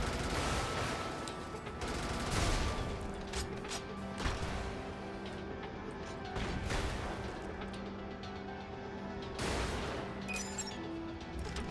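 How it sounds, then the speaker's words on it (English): Railgun fire in the video game Brigador, several sharp, loud electronic bursts with mechanical whirring and tonal hum between them, dense and close amid game effects. "I can catch you with my railgun."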